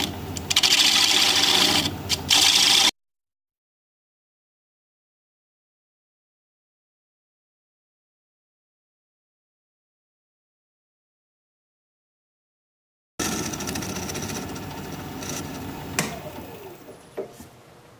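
Wood lathe turning a live edge paper birch dish, a close, continuous rubbing and scraping as curls peel away, cut off by a long silence before the gritty turning noise resumes and slowly thins out.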